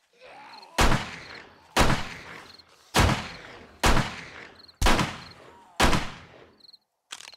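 A pistol fired in the zombie survival game 7 Days To Die cracks out six loud, sharp shots at a steady, roughly one-second pace, each with a short decaying tail, then a fainter seventh shot; faint insect-like chirps sound in the background.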